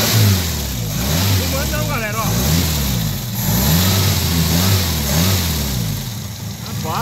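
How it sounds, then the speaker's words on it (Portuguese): A 1985 Ford Belina with a 1.6 CHT engine revs repeatedly, close and loud, its engine note rising and falling in several pulses while someone talks over it. "Só deixa eu dar uma acelerada aqui, ó."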